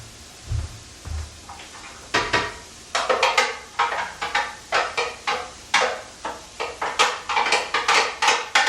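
Chili ingredients tumble into a pan of cooking onions on the stove, giving a run of close, clattering scrapes and knocks in an uneven rhythm over a soft sizzle, with no voices.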